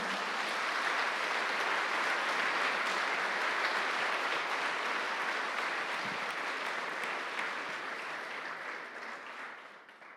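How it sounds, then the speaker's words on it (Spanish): A church congregation gives the Lord a round of applause during a Spanish-language sermon, broad sustained clapping that stays full for most of the stretch before tapering off near the end. "¿le puede dar un aplauso al Señor?"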